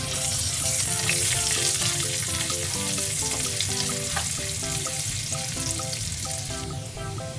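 Ginger sizzling and crackling steadily in hot oil in a pan alongside garlic, a loud, continuous frying hiss with a melodic background tone running throughout and no talking.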